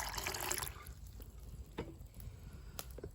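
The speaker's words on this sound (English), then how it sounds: "What you want to do is fill your pot up." Water pouring into a pot outdoors beside a campfire, a brief splashing fill at the start that gives way to faint drips and trickles, quiet and close.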